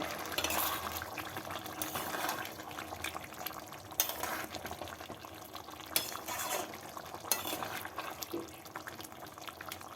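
Shrimp and kohlrabi curry with slit green chillies is stirred in a pan, giving continuous wet bubbling and scraping with occasional sharp clinks of the spoon against the metal, close and fairly steady.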